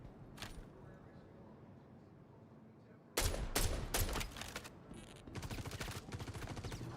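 Bursts of rapid gunfire in Star Citizen, loud and close, several quick volleys starting partway through after a quieter stretch, with a voice talking in the background.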